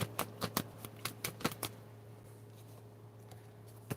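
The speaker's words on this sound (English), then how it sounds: "Let me shuffle this card. These cards." A deck of cards being shuffled during a card reading: a quick run of riffling flicks for about two seconds, close and fairly quiet, followed by a low steady hum.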